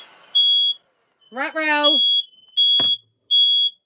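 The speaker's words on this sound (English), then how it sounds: "I set off the smoke alarm" A smoke alarm, set off while wood is being burned with torch paste, sounds loud, piercing, evenly spaced beeps. A person's voice briefly interjects between the chirps.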